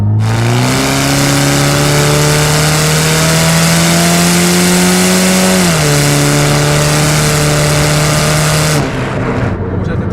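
A 2008 Saturn Sky Redline's engine pulls hard under acceleration, loud and close with a steadily rising tone, a brief dip at a gear change, then climbing again before the throttle lifts.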